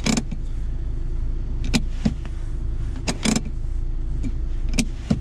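Handbrake lever being pulled up inside a 2021 LADA Niva Travel, a few short close clicks and ratchet sounds in a quiet cabin.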